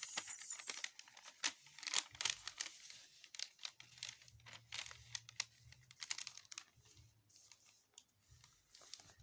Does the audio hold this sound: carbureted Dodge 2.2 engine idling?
no